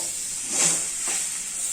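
Potatoes tipped into a pan of frying onions seasoned with asafoetida and salt, giving a short hissing sizzle that swells briefly, then settles into a steady hiss.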